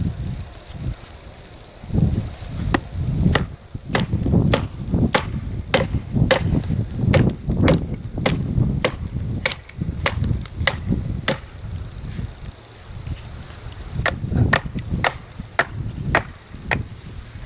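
A Kubey Sicario survival knife with D2 steel hacks into a big knotty piece of frozen wood in sub-zero snow, giving a long series of sharp, loud chopping impacts in an uneven rhythm over faint wind noise.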